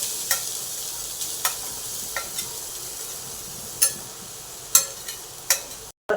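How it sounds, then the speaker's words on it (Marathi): Freshly grated coconut roasting in a kadhai over low heat, a soft steady sizzle with occasional sharp scrapes and clinks of stirring, close and fairly quiet, no voices. "कढई ठेवली आपण मंद अछरीला गरम करून घेतले आता यामध्ये आपण खोबरं खवणलेलं घालूया"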